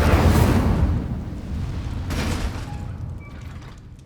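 A fiery Incendio spell bursts from a wand in the Hogwarts Legacy wizarding game, a loud roaring whoosh of flame that swells at the start, flares again midway and then fades out.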